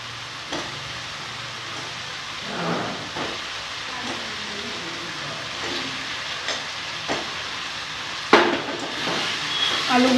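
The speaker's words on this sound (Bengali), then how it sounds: "এবার আমি এক এক করে আলুগুলো দিয়ে দিচ্ছি।" Potato pieces fry in a spiced masala paste in a pan, giving a soft continuous sizzle. Faint clinks and stirring scrapes come at intervals, with a sharper clatter late on.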